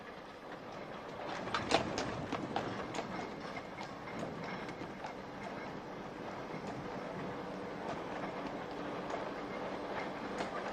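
An old British tram runs on rails in Bradford with a steady rolling rumble and faint rhythmic clicks of the wheels over about eleven seconds, with no talk.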